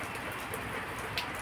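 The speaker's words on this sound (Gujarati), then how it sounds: "વરસાદ ચાલુ છે" Steady rain falls under a dark, heavy sky, a dense even hiss of drops on surfaces throughout, moderately close, with one brief brighter splash near the end.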